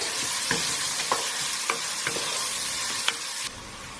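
Onions frying in a pan, a steady close sizzle punctuated by regular spoon scrapes about every half second, before the frying noise cuts back near the end.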